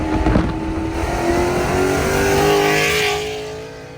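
A 2024 Ford Mustang GT V8 with a full aftermarket exhaust revving loudly and steadily nearby, the engine note rising and holding before easing off, with no talk over it.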